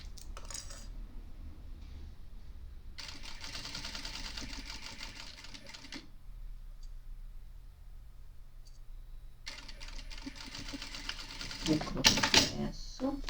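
A domestic sewing machine stitches and backstitches a tote bag seam in two sustained runs of rapid mechanical whirring and clicking, separated by quiet pauses, with a brief louder clatter near the end.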